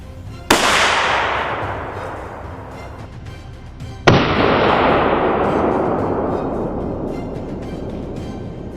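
Two loud, close rifle shots during a hunt for a giant wild boar on a Texas farm, a few seconds apart, each a sharp crack followed by a long rolling echo.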